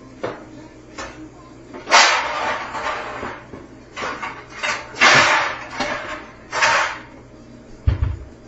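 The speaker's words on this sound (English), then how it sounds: "Let me get my pan out." Pots and pans clatter and bang as something is pulled from a cupboard, several loud metallic knocks and scrapes with a voice talking over them.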